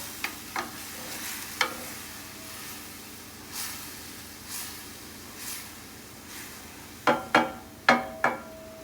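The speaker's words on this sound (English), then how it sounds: "It's already starting to simmer along the edges." A pot of carbonara quietly bubbles and hisses, simmering along the edges, with soft scraping stirs and a few sharp clinks of a utensil against the pot near the end.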